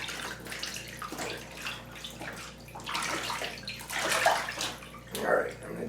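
Dirty rinse water from washing a wool blanket running and gurgling out of a bathtub, a continuous close splashing flow that swells and sloshes in waves, with a faint voice briefly underneath.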